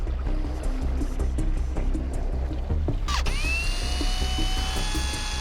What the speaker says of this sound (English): I'm using a magnet on a drill here my buddy invented.